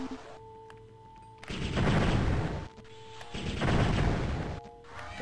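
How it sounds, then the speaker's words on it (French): Two heavy explosive weapon blasts from the retro first-person game Heretic, each a loud broadband roar lasting about a second, separated by a brief lull with a steady tonal hum underneath. "L'arme, fait, elle fait une telle explosion, en fait, à l'usage, que je vois même plus mon ennemi."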